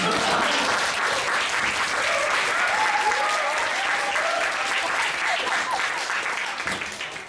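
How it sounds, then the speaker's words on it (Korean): Audience applause at a Seoul National University College of Social Sciences and Asia Research Center invited lecture, a dense, steady roar of many hands clapping that continues for several seconds before thinning out at the end. "박수 치셔도 됩니다."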